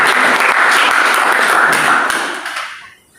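Congregation applauding at a church worship service held in an apartment: dense, loud, continuous clapping that tapers off and dies away at the end.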